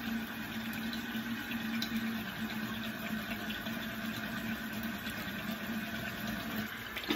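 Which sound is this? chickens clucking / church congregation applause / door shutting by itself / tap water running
tap water running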